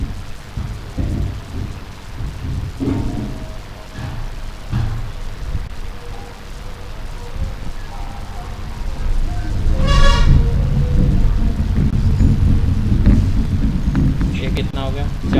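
Steady rain pours down outdoors through a thunderstorm, with a low rumble of thunder swelling partway through, loud and continuous with no speech over it.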